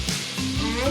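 Minced garlic sizzles in a hot pan, a short, close frying crackle lasting under a second.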